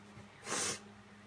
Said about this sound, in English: I apologize for all of my sniffing tonight.